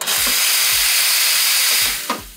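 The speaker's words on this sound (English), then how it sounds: "Now, we're just gonna wanna run our steam wand" A Sanremo coffee machine's steam wand runs during cleaning, giving a loud, steady hiss for about two seconds. Low thumps come before and after it, and the hiss then fades out.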